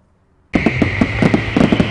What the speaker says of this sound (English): We helped celebrate independence with Wamigo in an amazing fireworks spectacular